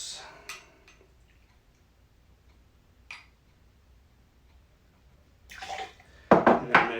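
An ounce of lime juice poured for a daiquiri: a short, soft liquid pour near the end, after a few faint clinks in a mostly quiet room.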